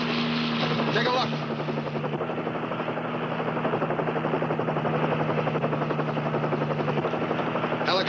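A helicopter flies close overhead with a steady, dense rotor chop and engine drone that persists throughout, with a voice speaking over it in a vintage highway patrol drama.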